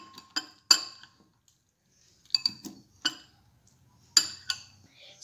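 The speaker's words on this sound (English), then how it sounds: "Let's just again mix it once so the spices all get mixed." Desi chaat gets mixed with spices in a bowl: a few sharp clinks of a spoon against the bowl arrive in small groups separated by pauses, close and fairly quiet, with no talking.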